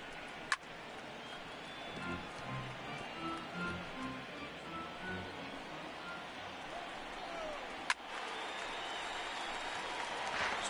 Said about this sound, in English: This crowd cheering to get Strasburg to will himself to another out.